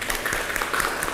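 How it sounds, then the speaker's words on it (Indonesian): Applause from an audience at a school lecture, a dense, steady patter of many hands clapping together, close and even throughout. "Bagus sekali, kita beri aplaus."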